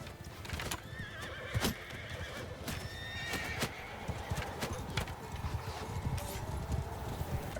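Horses of mounted archers in a snowy battle game, a busy stream of close clip-clopping hooves with repeated neighs and whinnies over a rough ambient bed.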